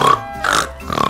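A person imitates a pig, giving three short nasal oinking grunts in quick succession, close and fairly loud.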